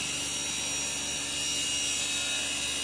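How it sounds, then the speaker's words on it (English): HonestBee side bar slicer running its high-speed saws through bee frame blocks, a steady, loud machine whine and hum with no pauses and no voices. "An automated system then feeds these blocks towards the high-speed slicing saws housed within."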